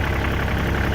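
A Kioti tractor engine idles close by, a steady low rumble with an even pulsing beat and no breaks.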